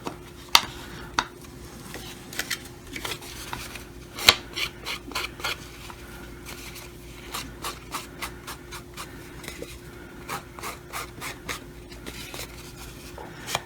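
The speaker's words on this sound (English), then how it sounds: "So we'll bring in our distress ink and a blender." Distress ink being rubbed onto the curved paper edges of a journal pocket with a blender tool, a long series of soft, scratchy strokes in an uneven rhythm with occasional sharper taps, close and quiet.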